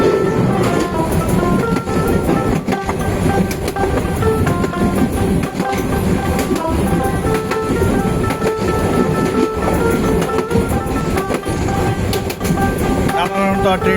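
Bijoy Express passenger train running from Chittagong toward Jamalpur, heard from inside with a steady loud rumble and rhythmic clickety-clack of wheels on rail joints throughout, with faint voices in the carriage.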